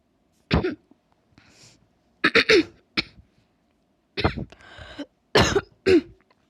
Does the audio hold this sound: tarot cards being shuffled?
no